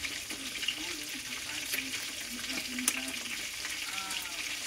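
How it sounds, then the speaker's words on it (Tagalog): Squid coated in flour and egg frying in oil, a dense steady crackle and sizzle with a few faint utensil clicks and muffled voices in the background. "Piniritong pusit na may harina at itlog."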